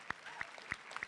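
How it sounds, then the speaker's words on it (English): Brief burst of audience clapping at a Walking Dead panel at New York Comic Con 2015, a few sharp claps standing out over a thin crowd patter. "yeah, you can applaud for her"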